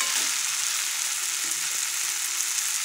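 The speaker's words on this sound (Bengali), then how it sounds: "এখন এর মধ্যে দেবো একটু ঘি" Ghee hits cabbage ghonto in a hot pan, producing a steady, even sizzle with a few faint scrapes underneath and no talking.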